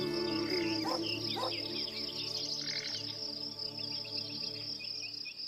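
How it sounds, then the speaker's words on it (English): Steady insect-like chirring and buzzing mixed with bird chirps and tonal music, continuous and fairly loud throughout. "The music evokes countryside scenes, including the sounds of buzzing insects and barking dogs."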